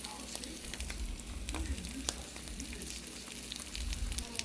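A flipped egg fries in a pan, a soft, steady sizzle with small scattered pops, fairly quiet and close, with no talking over it.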